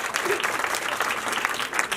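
Steady audience applause fills a short stretch, a dense wash of many hands clapping at even loudness with a faint murmur beneath, no clear speech over it.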